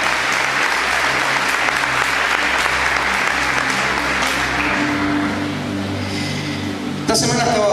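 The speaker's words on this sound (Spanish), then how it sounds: "Aplauso para los que tienen potencial." Applause from a church congregation during a pastor's sermon, a dense steady wash of clapping filling about seven seconds at close range before fading, followed by a brief sharp burst of noise at the end.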